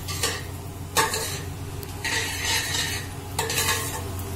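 Bitter gourd peels and seeds fry with spices in a pan, a low sizzle broken by several sharp scraping stirs of a spoon against metal, close and fairly quiet.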